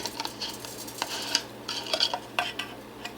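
Metal pieces of an Esbit alcohol stove cook set clink and scrape as a stuck lid is worked free of the simmer ring, with light close taps and rattles over a faint hum.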